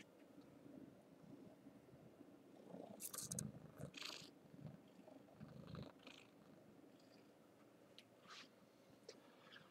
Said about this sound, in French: Je vais vous faire entendre son ronron.